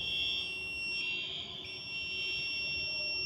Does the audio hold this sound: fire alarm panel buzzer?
yes